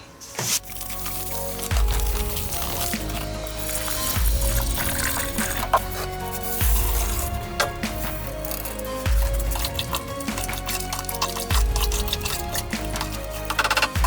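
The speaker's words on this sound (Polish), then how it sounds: "Na razie rozpuszczam cukier, dodaję 8 litrów wody, drożdże, pożywkę mieszam" Water, sugar, yeast and nutrient being stirred together for Japanese quince wine, with liquid sloshing and swirling close up and rhythmic heavy stirring strokes repeating every couple of seconds.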